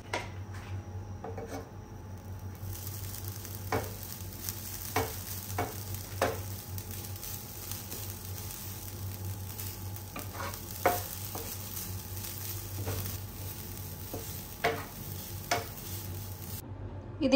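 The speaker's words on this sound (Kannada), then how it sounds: "ಅದಕ್ಕೀಗ ಸ್ವಲ್ಪ ಹಳದಿ ಪೌಡರ್ ಹಾಕಿ ಇದನ್ನೀಗ ಸ್ವಲ್ಪ ಫ್ರೈ ಮಾಡ್ಕೊಳ್ತೀನಿ" Grated coconut with turmeric powder stirred and fried in a pan for an Udupi-style chicken curry masala, a steady close sizzle with a low hum and scattered scraping taps of a spoon against the pan, no voices.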